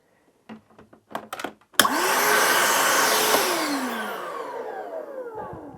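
A Ridgid 18V NXT cordless wet/dry shop vac set up as a blower, a few clicks as the battery goes on, then the motor whines up loud and close and slowly winds down.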